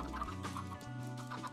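Chickens in the video game Minecraft cluck softly in a short burst of quiet, repeated clucks set against faint game background sound.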